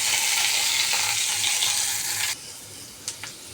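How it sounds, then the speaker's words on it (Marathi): Mustard seeds with ginger, garlic and chili paste sizzle loudly in hot oil, a dense steady hiss that cuts off abruptly partway through, followed by a couple of light clinks. "तेल गरम केलं, त्यामध्ये मोहरी टाकली, त्याच्यामध्ये आलं लसूण आणि मिरची पेस्ट टाकली"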